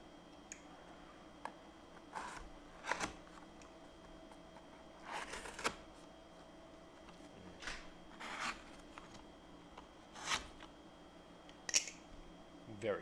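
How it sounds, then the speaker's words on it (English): Sharp knife slicing open a cardboard box for an unboxing, a series of quiet crisp cutting and tearing scrapes at irregular intervals against a faint background hum. "let's go ahead and cut into this box"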